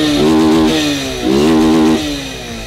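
A Honda CG 160 motorcycle engine in neutral, fitted with a Twister 250 front end, starts up and idles loud and close, with a steady putter that surges in two brief revs and then settles back, with no talking.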